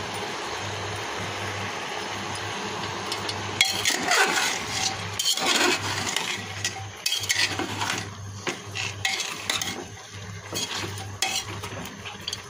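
Vegetable roll filling with chili powder and spice paste is mixed in a pan: a quiet stretch, then from about a third of the way in, close, busy spoon scraping and clattering against metal over a faint fry.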